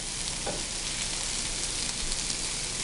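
Diced precooked ham and translucent onions sizzle steadily in a pan, a dense, even hiss close up with no talking.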